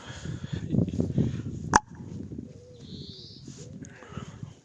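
Pigeons coo outdoors on a cool, breezy day, soft low calls that repeat close by, broken by one sharp click and some faint rustling.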